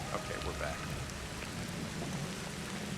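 Rain patters steadily in the video game Ancestors, a soft, continuous hiss of drops on surfaces at low level with no talk over it.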